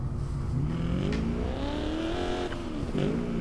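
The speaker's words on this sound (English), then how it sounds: "I'm wondering if they gave it a different V8 noise than most of the other muscle cars" A throaty V8 engine of a Fox Body Mustang in Need for Speed Payback revs and drones loudly, pitch climbing steadily through the gears with a brief dip and surge near the end.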